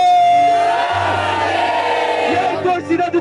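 A loud crowd roars and shouts together at a Brazilian street rap battle, the Batalha da Leste final, a dense sustained cheer that fades toward the end.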